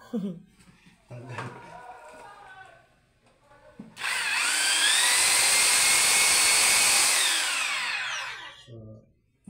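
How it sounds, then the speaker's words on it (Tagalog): Electric power drill whirring loudly for about five seconds, spinning up and winding down, with someone talking just before and after it. "at gumagana yung ating drill"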